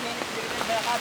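Heavy rain from a storm pours on a tent in a forest at night, a dense steady hiss with scattered drop patter, continuous throughout.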